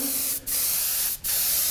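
Bloodline adhesion promoter misted from a spray can onto latex in three close, loud hissing bursts separated by two very short pauses, with no talking.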